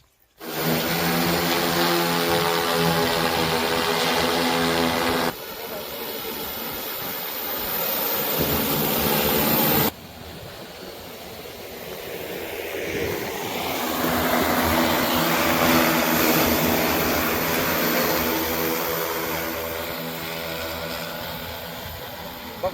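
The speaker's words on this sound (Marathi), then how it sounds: "6 मिनिटांमध्ये 30 गुंठे क्षेत्र फवारणी करून हा ड्रोन आता इथं आलेला आहे" An agricultural crop-spraying drone flies back after spraying a field, giving a loud, close, continuous propeller whine and buzz that lasts throughout, with a couple of abrupt shifts in tone.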